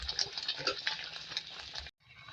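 A spoon stirs a sweet bread and egg mixture with ghee in a pan, making a close, soft sizzling and scraping that runs on briefly before a sudden stop.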